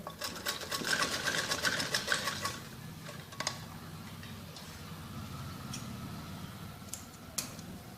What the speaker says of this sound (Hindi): ऐसे अंदर की तरफ नेट की तरफ हम किनारे पे सिलाई लगाएंगे ताकि सिलाई की पट्टी दब जाए